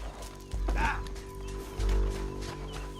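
A horse in Red Dead Redemption 2, hooves thudding in quick clip-clop beats with a sharp whinny early on, set against a low steady drone of the game's soundtrack.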